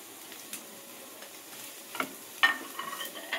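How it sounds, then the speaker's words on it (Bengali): Onion bhujia and boiled potato frying in a pan give a faint, thin sizzle with a few quiet spatula scrapes and clicks that grow denser toward the end, heard close with no speech. "তো এটাকে ভালো করে আমি ফ্রাই করে নিচ্ছি, ভুজিয়া টাইপের করে নিয়েছি।"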